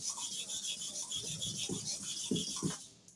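Starex clipper blade rubbed back and forth on a sharpening stone, giving a close, steady rasping scrape with a few stronger strokes near the end.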